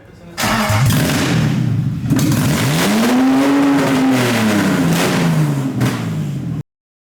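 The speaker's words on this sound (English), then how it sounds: "we were trying to get the E30 running on its own power, and we ended up doing it as you've seen in that clip" A BMW E30 with a swapped M52 engine cranks, catches and fires up, then revs loudly with rising and falling engine pitch before cutting off abruptly.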